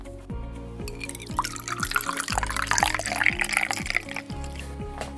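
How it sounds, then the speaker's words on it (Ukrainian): Water, about 150 ml, pours into a small cup in a gurgling, bubbling stream over a few seconds, close up, while soft background music plays underneath. "наливаєте 150 мл води"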